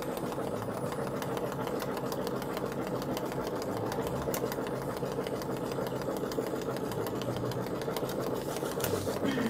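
An embroidery machine stitching out a Mylar card, its needle running in a fast, steady mechanical chatter with a constant motor hum, close and unbroken throughout.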